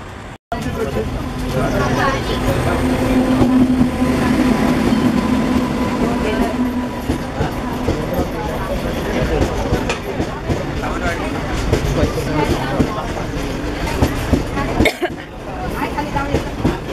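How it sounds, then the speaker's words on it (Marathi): A special Ganpati festival passenger train running from Sawantwadi toward Mumbai rumbles past a station in a forested area, with continuous rolling wheel and carriage noise over seventeen seconds, a brief dropout near the start and talk over it. "ही गणपतीसाठी स्पेशल आलेली ट्रेन."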